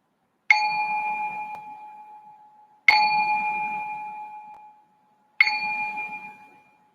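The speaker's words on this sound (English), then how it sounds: "I'm going to just ring this bell to signal the start of the meditation." A meditation bell is struck three times at an even, unhurried pace; each clear, bright tone rings out and fades slowly before the next strike, with no voices.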